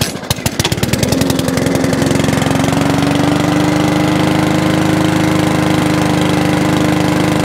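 Small lawnmower engine running on ethanol-free petrol, sputtering and uneven at first, then settling into a loud, steady idle close by.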